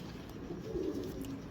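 A pigeon coos softly and close by, a short low rolling call in a quiet setting, with no one talking.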